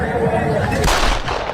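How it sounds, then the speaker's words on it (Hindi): Rapid gunfire in a busy street just outside a city police station in Charkhi Dadri, Haryana, crackling in a dense burst over crowd noise and commotion. "अभी गोलियां चली और 50 गोलियां चली है सिटी थाने के जस्ट सामने।"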